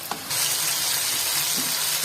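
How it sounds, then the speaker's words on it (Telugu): Urad dal and chana dal frying in oil, a loud continuous sizzle that swells after a brief quieter start, with faint stirring scrapes underneath. "కొంచెం బ్రౌన్ కలర్ వచ్చిందాక ఫ్రై చేసుకోవాలి."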